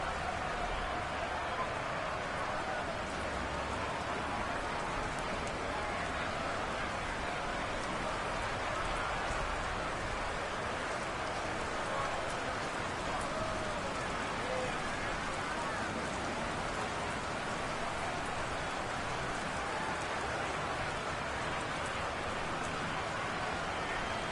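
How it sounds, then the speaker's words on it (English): Steady rain falls over an NFL football game between the Ravens and the Browns in an open stadium, an even, constant hiss throughout with no breaks. "The rain set to continue as we are underway in the second half."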